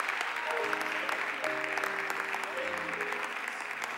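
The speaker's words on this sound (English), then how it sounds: "Let's give God a hand clap of praise." A church congregation claps in praise during a worship service, producing sustained, even applause with sustained musical tones ringing underneath.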